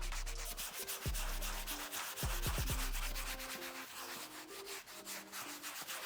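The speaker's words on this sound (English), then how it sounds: "at this point, we're just doing a gentle sand, not aggressive, right?" Gentle hand sanding on a worn black leather bolster, a soft, rhythmic rubbing scrape repeated in quick strokes, close and steady throughout, with faint thumps at the start.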